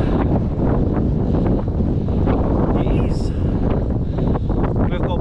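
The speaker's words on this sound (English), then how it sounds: "bit of a headwind," Steady wind buffets the microphone while cycling outdoors into a headwind on a road bike, a constant low rumbling roar throughout with some faint talk mixed in.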